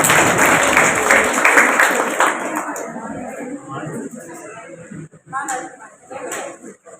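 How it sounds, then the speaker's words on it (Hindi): Applause from an audience at a Women's Day honouring ceremony, dense clapping loud at first then thinning and fading after about two seconds, with a few scattered claps and voices later. "एक बार इनके लिए जोरदार तालियां"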